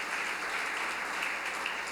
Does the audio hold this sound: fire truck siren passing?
no